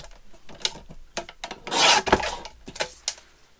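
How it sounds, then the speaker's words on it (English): A sewing margin is trimmed off, making a series of close, uneven rasping cuts and rubs, with a longer, louder stroke in the middle. Nobody talks. "So I'm just going to trim that margin off on the bottom"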